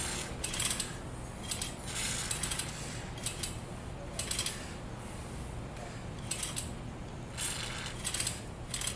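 A bicycle chain ratchets and clicks in repeated short bursts as it is pulled backwards while being sprayed with cleaner, quiet and close with a faint spray hiss underneath.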